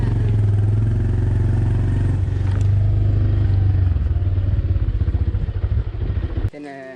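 A motorcycle engine chugs loudly at close range in the hills of Diyanagal, Sri Lanka, then shuts off abruptly as the bike is parked, with voices talking nearby.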